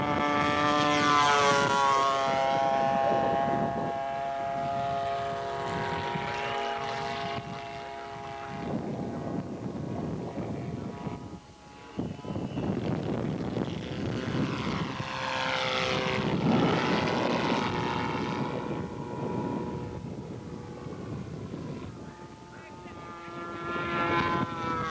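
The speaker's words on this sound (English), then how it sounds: "Burt Baker streaks right out behind him with his P-47 Jug." A P-47 Jug scale model airplane flying past at a 1984 scale competition, its engine droning loudly as it passes with changing pitch, under a commentator's voice.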